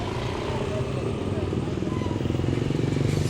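Motorbikes and tricycles pass along a busy Philippine street at night, a steady rumbling, buzzing engine drone close by with continuous traffic noise underneath.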